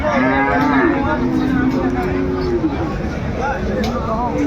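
A Sahiwal bull calf at a cattle market moos loudly and close by in long drawn calls, with a murmur of crowd chatter behind it.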